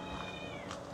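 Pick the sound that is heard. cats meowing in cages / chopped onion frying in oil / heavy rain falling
cats meowing in cages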